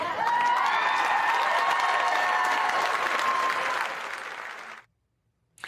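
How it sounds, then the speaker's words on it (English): An audience at a political gathering applauds and cheers, sustained loud clapping with whoops that fades out over the last second before a brief silence. "People cheering for that. That's what you just saw."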